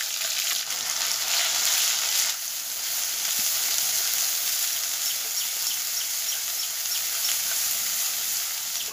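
A paste of cauliflower leaves sizzles in hot oil seasoned with nigella seeds, giving a dense, steady, close frying hiss that runs throughout with little variation.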